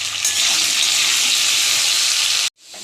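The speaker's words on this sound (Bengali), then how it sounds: "ওই তেলের মধ্যেই আলু আর কচুটা ভেজে নেব" Potato and taro chunks fry in oil left over from frying hilsa fish, giving a loud, dense, steady sizzle that stops abruptly near the end.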